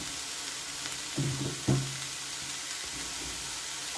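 Vegetables for a veg momo filling, salted and stir-frying in a pan, give a soft continuous sizzle, with a few stirring clanks in the middle and a knock at the end.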